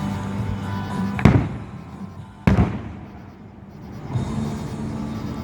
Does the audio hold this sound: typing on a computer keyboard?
no